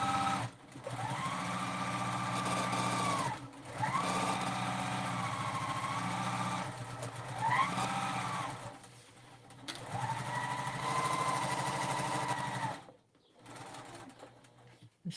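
A sewing machine runs in several long sustained bursts, stitching fabric for a quilted Flatmate pouch in Lori Holt Berry and Sage prints, with brief pauses between runs of steady motor whir and needle chatter.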